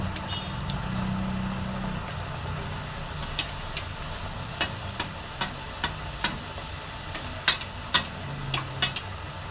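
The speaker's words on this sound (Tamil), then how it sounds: "பூரியை எண்ணெயில் ஆட் பண்ணுறோம்" Puri fries in hot oil, a steady sizzle punctuated by a series of sharp clicks and taps from a utensil, fairly close with a low hum underneath and nobody speaking.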